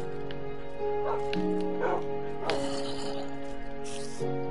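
Dogs in the Minecraft video game give several short whimpering barks and yips, scattered through a few seconds over a steady game background, fairly close and clear.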